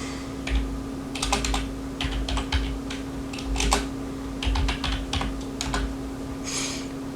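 Rapid, irregular bursts of keystrokes on a computer keyboard, typing keywords into Canva at close range with short pauses between runs, over a steady low electrical hum and no speech.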